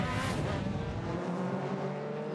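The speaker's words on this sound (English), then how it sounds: "There's a safety car joining the circuit." Aussie Racing Cars run at the Symmons Plains circuit on a wet track as the safety car joins, with a loud, continuous engine roar and spray that sweeps past up close before the low rumble drops away.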